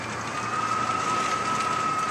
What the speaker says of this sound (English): the monsoon is so loud, the wind, it woke me up